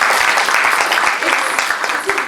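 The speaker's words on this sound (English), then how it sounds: "Can I have a round of applause for this one?" A dense, steady round of audience clapping fills a World IP Day 2023 forum launch event, sustained and fairly loud throughout the short burst.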